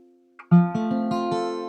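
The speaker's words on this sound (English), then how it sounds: "I'm strumming on the bottom 5 strings" An acoustic guitar with a capo rings out a C-shape chord on the bottom five strings, then is strummed again several times in quick succession, bright and close.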